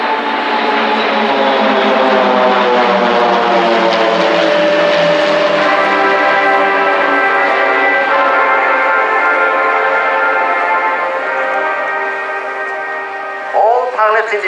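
Pilatus PC-7 propeller aircraft of an aerobatic display team fly past in formation at an air show, with loud, sustained engine drone whose pitch slowly falls as they pass, then tails off at the end.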